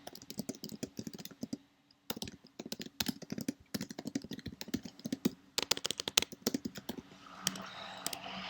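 Someone types a code comment on a computer keyboard, producing steady bursts of close, crisp key clicks with brief pauses. A soft rustle follows near the end.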